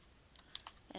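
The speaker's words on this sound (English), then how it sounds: "I am going to type right here, penny volume" A few quick, faint keystrokes tapped on a computer keyboard while entering data into a spreadsheet, light isolated clicks in a quiet room.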